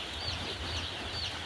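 Four-day-old chicken chicks cheeping in a brooder, a continuous overlapping chorus of thin high peeps, close and fairly steady, with no voices.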